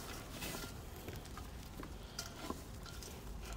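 Mulberry leaves being stir-roasted in a pan for tea, a continuous dry rustling and scraping with faint sizzle and occasional light clinks of a utensil, steady and close throughout.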